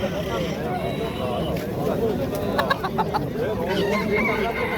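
A rooster clucks and calls at a bird market in Namangan, mid-distance fowl sounds mixed into steady crowd babble and nearby talking.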